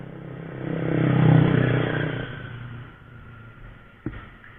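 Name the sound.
Honda Karisma motorcycle with Supra body, engine revving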